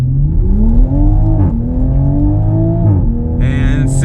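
A 2020 Toyota Supra launches hard from a standstill, its engine note rising loud and close, broken by two quick upshifts before climbing again.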